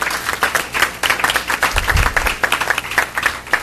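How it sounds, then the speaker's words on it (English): A school board meeting audience gives a round of applause, a modest crowd clapping with distinct individual claps, fairly close and steady, with no speech over it. "Can we give them another round of applause before they leave?"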